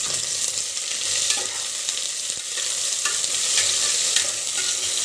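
Two large onions sliced lengthwise sauté in a pan, a continuous close hiss of frying with occasional stirring scrapes and clicks, no voices.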